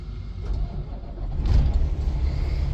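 A Freightliner truck engine rumbles low and steady while in gear with a failing clutch and low air pressure, swelling louder midway, close, with no talk.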